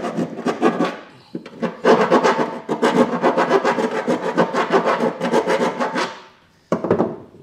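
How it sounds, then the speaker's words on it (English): Hand file rasping burrs off freshly drilled holes in steel truck frame rails while installing a B&W fifth-wheel hitch base rail kit on a 2015 Chevrolet Silverado: close, steady back-and-forth strokes, a brief pause, then a final short burst. "I'm going to go through and just kind of file down if there's any burrs."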